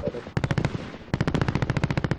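Rapid bursts of automatic gunfire in the video game Call of Duty: Warzone, a short volley followed by a longer sustained burst, loud and close.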